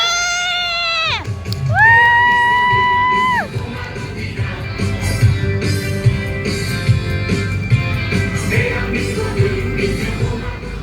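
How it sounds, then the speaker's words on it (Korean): A crowd at a candlelight rally cheers and yells, with loud sustained horn-like tones at the start, then a busy mix of shouting, cheering and scattered clapping under background music. "큰 박수 부탁드립니다."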